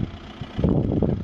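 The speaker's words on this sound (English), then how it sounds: "he's pulling up, hopefully behind me, in a Yeti" A Skoda Yeti Greenline II car pulls up nearby, its engine a low, steady rumble that swells briefly as it approaches.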